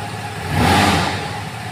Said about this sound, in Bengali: এই যে বাইকটা এবার স্টার্ট দিচ্ছে।